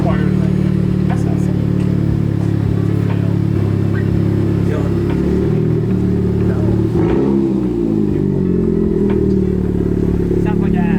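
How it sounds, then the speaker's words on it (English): Honda Civic Type R with its stock exhaust removed, engine droning loud and steady at close range with a rise in revs partway through, while people talk over it. "if you ever wonder what a Type R with no stock exhaust sounds like"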